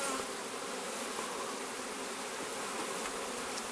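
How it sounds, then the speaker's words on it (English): A steady, dense buzzing of many bees on a hive frame at close range, constant and unbroken throughout with no voices. "Just another frame of bees."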